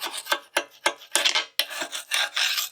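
Hand-scraping of caked debris off the blade of a Kubota KX040-4 excavator: a run of rough, raspy scrapes in an irregular rhythm, close and fairly loud, with short gaps between strokes and no talk.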